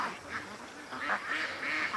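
Several ducks quack in a quick run of nasal calls, close and fairly loud, overlapping a little with no talk over them.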